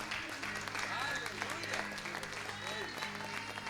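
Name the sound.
congregation applauding in church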